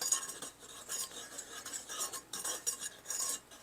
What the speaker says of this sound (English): I'll whisk all the dry ingredients together